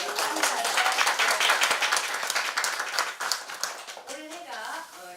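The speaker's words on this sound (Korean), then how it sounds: "박수 부탁드립니다" An audience claps at a birthday cake-cutting for an author at a book forum, with dense, lively clapping that thins toward the end as a voice begins talking over it.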